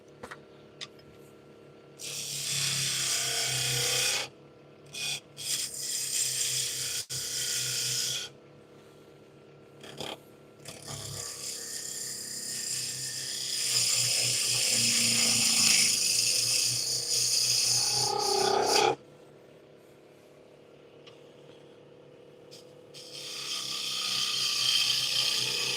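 A wood lathe turning and shaping new wood, giving a steady rasping, scraping cut that starts, stops and restarts in long stretches over a low motor hum, with no talking.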